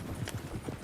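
Horse hooves clopping in the video game Red Dead Redemption 2, a brief run of muffled, low thuds under a dense game soundscape.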